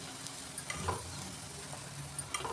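An aloo paratha fries in ghee on a flat pan, giving a soft continuous sizzle. Faint scrapes and taps of a spatula come at a few moments, quiet and close, with no voices over it.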